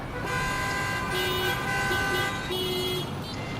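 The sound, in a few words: car horns honking in congested city traffic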